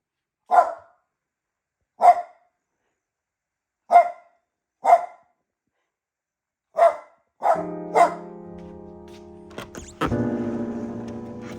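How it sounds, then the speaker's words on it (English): A dog barks in single loud, close woofs spaced about two seconds apart, then a final few barks are followed by a sustained tonal mechanical hum and a louder burst near the end. "This has been our situation with this dog."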